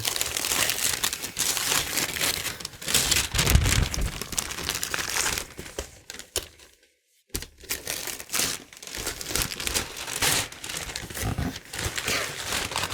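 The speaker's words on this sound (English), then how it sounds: "And I'm assuming there's no more wrapping paper under this." Wrapping paper crinkling and tearing as a gift is unwrapped, dense close rustling and crackling that runs almost continuously, with a brief pause midway.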